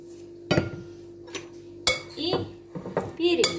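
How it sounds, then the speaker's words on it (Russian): Spoons clink and scrape against a bowl as an avocado salad with lemon, pepper and salt is stirred, giving a few sharp, irregular knocks close by. "Перемешиваем."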